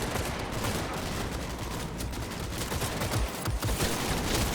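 Rapid bursts of gunfire from a newly tried weapon in the video game Cyberpunk 2077, dense continuous volleys with sharp repeated cracks at moderate level and no talk.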